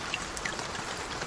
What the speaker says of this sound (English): The rain sounds like it sounds like I'm in a freaking rainstorm right now.